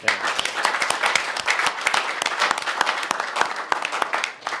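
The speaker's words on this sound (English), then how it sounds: "a round of applause" Dense, steady applause from a tax forum audience, many hands clapping at once for several seconds before tapering slightly at the end.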